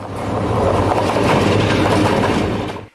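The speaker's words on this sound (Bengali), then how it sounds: "কেউ আসেন ট্রেনে করে" A train running along rails, carrying students travelling to a rally in Dhaka, rumbles steadily with a rhythmic clickety-clack of wheels, loud and close, throughout a few seconds before fading abruptly.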